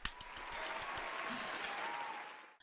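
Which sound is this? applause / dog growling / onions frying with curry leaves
applause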